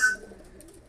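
A noisy pet bird lets out a brief, close, fairly loud call, a single short cry that tails off quickly into faint room noise.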